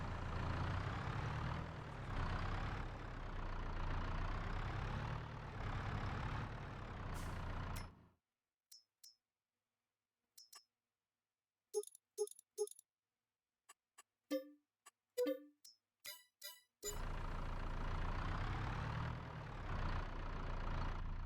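A tractor engine idles in Farming Simulator 22 with a loud, steady, low mechanical drone. It cuts out midway, leaving silence broken by scattered clicks and short tones, then resumes at full level near the end.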